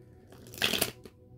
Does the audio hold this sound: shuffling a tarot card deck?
yes